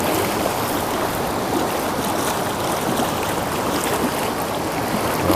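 Fast-flowing water of Esopus Creek rushing through a swimming-hole run, a steady dense broadband roar of current close by, continuous and unbroken with no voices.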